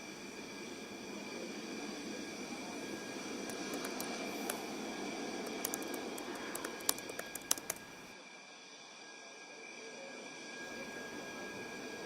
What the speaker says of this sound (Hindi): फिलहाल रनवे पर है, पिकअप कर रहा है, इसके बाद आपको यहाँ पर उड़ान नज़र आएगी।